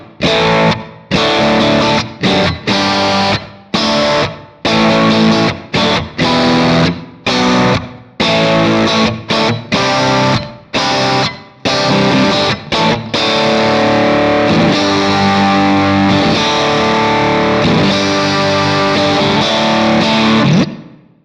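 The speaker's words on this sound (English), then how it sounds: "It's based around the Recording Studio C reverb type." A distorted electric guitar plays rhythmic chopped chords through a Fractal Axe-Fx set to the Recording Studio C reverb, loud and up close, then rings out into sustained chords with a roomy tail.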